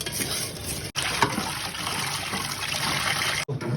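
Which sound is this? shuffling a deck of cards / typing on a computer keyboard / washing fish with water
washing fish with water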